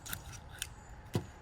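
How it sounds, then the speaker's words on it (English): Three sharp scissor snips cutting through a fish near the head, evenly spaced, the last one heavier and crunchier, close up with no talking. "Take my scissors, make a cut right there."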